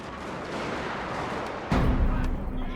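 A musket volley bursts from an infantry line on a Total War: Shogun 2 Fall of the Samurai battlefield, a single loud boom rising over a constant battle rumble.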